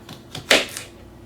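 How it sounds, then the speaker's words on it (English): A knife slices through cucumber chunks on a cutting board, a few quick crisp cuts with one sharper chop standing out, close and clear with no talk. "So I will cut some of these larger chunks in half."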